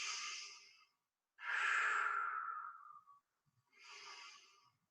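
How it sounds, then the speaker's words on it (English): Deep breathing during a back-stretching exercise session: three long, audible breaths, each a soft airy inhale or exhale, near and fairly loud, separated by short pauses, with no talking. "Inhale up, exhale down. Big breaths"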